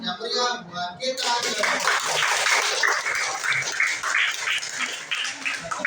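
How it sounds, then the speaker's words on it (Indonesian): A classroom of students applauds together, a dense, lively burst of clapping that follows a brief moment of voices and continues steadily at close range. "sekali lagi tepuk tangan yang meriah buat kita"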